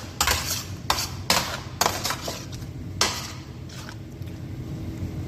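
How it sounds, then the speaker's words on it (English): Onions being stirred with butter buds in a dry pan while making pierogies: a spoon scrapes and clacks against the metal in several sharp, irregular strokes, close and fairly loud over a low background hum. "my pan is getting a little bit dry, so I'm going to add some more butter buds, and I'm going to stir it up again"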